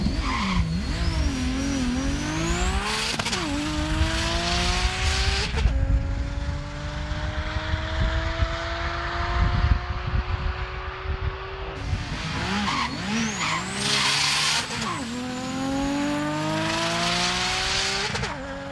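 A Nissan R32 GT-R street car at a runway drag event, its engine screaming loudly through rising gear changes with sweeping pitch, a brief lull, then another hard full-throttle pass with tire noise and shifts.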